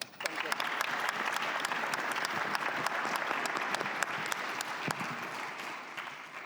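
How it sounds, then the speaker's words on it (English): Sustained warm applause from a conference audience at a plenary session on integrity and countering undue influence, thanking the panel speakers; dense steady clapping throughout with a few sharper claps, fading slightly at the end. "join me, please, in thanking the speakers with a warm applause for you"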